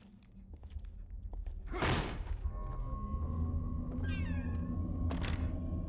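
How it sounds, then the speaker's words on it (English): A short, wavering cat meow rises out of low rumbling ambience and thuds in the horror video game The Evil Within, heard once, fairly faint, with a sharp noisy burst shortly before it. "It just sounds like a cat meowing."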